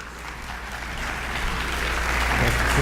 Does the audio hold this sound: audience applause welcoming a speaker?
yes